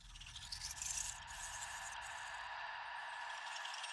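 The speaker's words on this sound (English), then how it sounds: "I've got this sample that's a combination of seed shakers and chimes." A synthesized sound sample blends rattling seed shakers with shimmering chimes, a soft steady wash with a brief brighter swell at the start.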